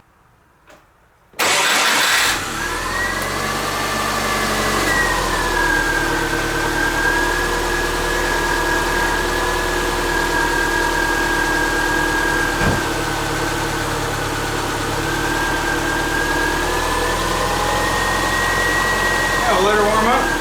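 A freshly installed Subaru Forester engine starts with a short burst, then settles into a steady, loud idle that hums on evenly with a slight drift in pitch, heard close up.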